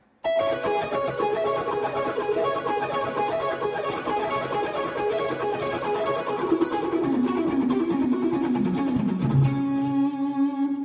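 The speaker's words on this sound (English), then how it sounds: "So the first exercise I usually start off on when I pick up the guitar sounds like this." Steady electric guitar picking runs through a quick pentatonic pattern, notes evenly spaced and continuous, moving lower toward the end.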